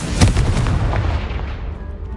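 A Confringo spell explosion from the video game Hogwarts Legacy: one loud, close blast with a booming low thud that rumbles and decays over about two seconds.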